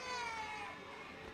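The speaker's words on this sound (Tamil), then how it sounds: "இங்கே ஒரு பூனை இருக்குது தெரியும்." A cat meows in the horror video game Baby in Yellow, a drawn-out wavering cry much like an infant's wail, heard up close in a single continuous call lasting over a second.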